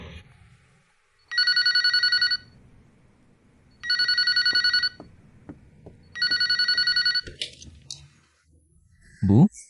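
A telephone rings in three evenly spaced electronic bursts during an outgoing call, each about a second long, separated by quiet gaps with soft handling noise, followed by faint movement.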